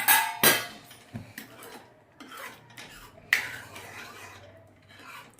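Homemade tomato sauce being stirred in a pot gives a few close scraping and clinking strokes of a spoon against the metal, with quiet pauses between them.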